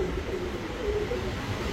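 Pigeons at a pigeon market, including large fancy and racing breeds, give low, continuous cooing that blends into a dense murmur against steady background noise, close and fairly loud with no talking.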